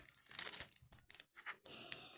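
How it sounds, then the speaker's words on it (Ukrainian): Plastic packets being torn open up close, several quick ripping and crinkling bursts separated by short pauses, with no one talking. "а ми переходимо розпаковувати пакетики"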